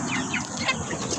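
Backyard chickens cluck in a quick, close-up burst of short calls lasting about a second.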